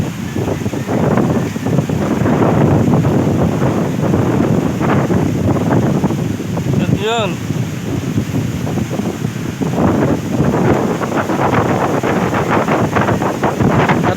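Strong wind roars and buffets the microphone over the steady wash of waves breaking on the shore. A voice speaks a single word briefly.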